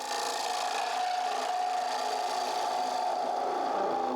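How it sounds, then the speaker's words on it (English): A carbide cutter scrapes steadily inside a wooden hollow form on a lathe, giving a continuous close rasping hiss with slight shifts in pitch and no talk. "I want to rotate the cutting edge, especially when I'm using these carbide cutters"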